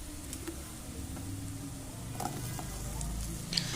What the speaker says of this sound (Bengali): হলুদ আর লাল লঙ্কার গুঁড়োটা দেওয়ার পরে খুব ভালো করে আবার মশলাটাকে কষাতে হবে